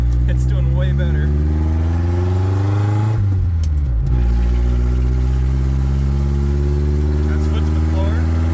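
A Ford Ranger engine revs hard with the accelerator floored, a loud, close roar that climbs, dips briefly, then climbs again and holds high.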